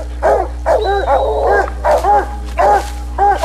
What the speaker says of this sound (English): There's a number of coon hunting dogs right there